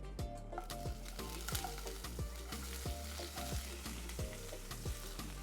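Onions frying in oil saved from cooking tofu, a steady close sizzle and crackle with repeated stirring scrapes through the pan, no talk.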